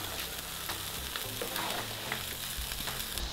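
A tomato salad for winter preserving stews in a lidded pan, giving a soft, continuous sizzle and bubbling with faint crackles throughout, close and steady, with no voices.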